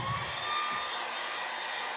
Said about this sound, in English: So I call the hair dryer the save button.